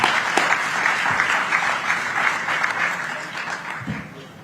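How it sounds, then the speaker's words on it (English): Audience applause at an India Today Conclave election-special session, a steady dense wash of clapping from a large crowd that holds for the whole stretch and eases slightly near the end. "Can we have a warm round of applause, please?"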